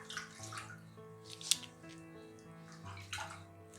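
Water runs from a tap to rinse a razor after a shave pass, a soft, quiet splashing and trickling with one brief sharp clink partway through.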